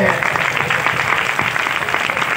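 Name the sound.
congregation clapping loudly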